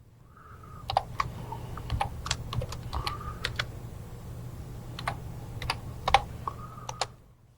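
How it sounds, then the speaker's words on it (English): Rapid keystrokes on a computer keyboard as a search box is filled in, close and fairly quiet, coming in quick irregular bursts with short pauses and a low steady hum underneath. "If I know the citation of a case, I can type that in at the beginning search box."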